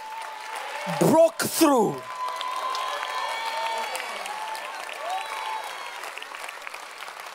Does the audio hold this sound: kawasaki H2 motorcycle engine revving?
no